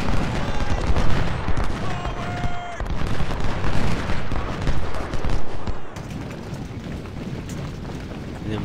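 Massed musket volleys and cannon fire crackle and boom continuously in a Civil War battle from the strategy game Ultimate General: Civil War, with a dense, loud rumble of gunfire throughout.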